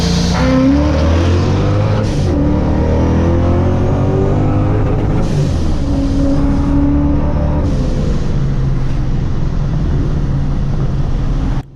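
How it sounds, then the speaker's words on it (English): Several cars in a Mexican street race, a Mazda 3, a Scat Pack, a modded Mustang and an M3, roar loudly as their engines rise through the gears, with overlapping revving drones and shifts close by. "Next race from left to right is a Mazda 3 next to a Scat Pack, next to me, next to an M3."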